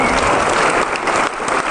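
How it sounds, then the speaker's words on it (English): Loud, dense applause from an audience at a talk, a continuous wash of clapping filling the short moment with little else audible. "Maybe everyone want to give him a clap."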